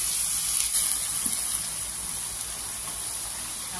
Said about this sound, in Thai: แล้วก็ผัดให้เข้ากันก่อนนะ